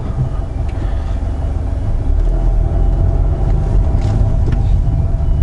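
A 2016 Hyundai Grandeur HG pulls away and drives, a steady low engine and road rumble heard from inside the cabin, loud and continuous, with no one speaking.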